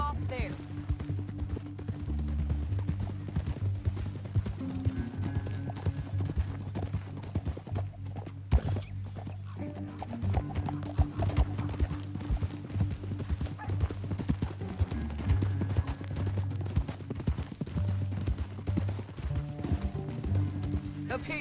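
Horse hooves clip-clop steadily at a gallop in Red Dead Redemption 2, a continuous rhythmic pounding under a droning music bed, with a voice talking over it now and then.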